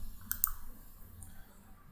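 A computer mouse gives a few sharp clicks, two close together and then a single later one, near and fairly quiet against a low background hum.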